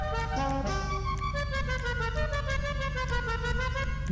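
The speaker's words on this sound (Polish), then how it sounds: "Klaksony z DLC zostają, tak?" A car horn sounds in the GTA Online video game on PS5: a sustained, steady tonal honk held loud and close for several seconds over a low engine rumble, with no talking.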